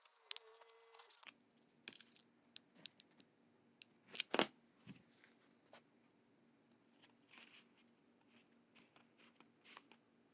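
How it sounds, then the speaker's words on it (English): Scissors snip through a tablecloth trim piece to cut it into a circle, giving a series of sparse, quiet, close cutting clicks and crisp snips with brief pauses between them. "the trim piece needs to be cut in a circle"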